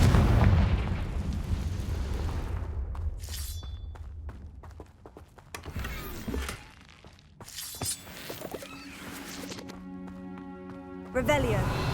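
A Confringo fire spell bursts in Hogwarts Legacy, a loud crackling blast with shattering debris over a low rumble, fading into quieter game ambience before a second sharp burst near the end.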